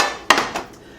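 A pan is set down with a sharp metallic clank, followed by a lighter second knock as cookware is handled on a kitchen stove for crepes.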